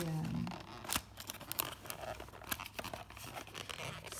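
Packaging for a beauty product, a calendula soap-like bar, being opened, with sharp snips, tearing and crinkling in quick irregular bursts at close range, no voices.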